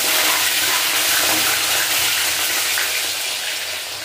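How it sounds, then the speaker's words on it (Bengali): Fish fries in a pan of hot oil, making a loud, close, steady sizzle and hiss that fades slightly toward the end. "ওই জন্য একটা করে ভেজে নিচ্ছি।"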